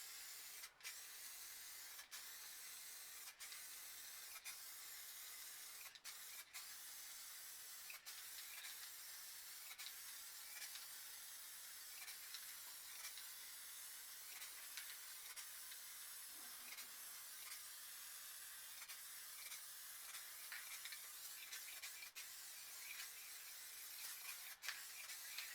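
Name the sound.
spray can applying clear coat over spray paint art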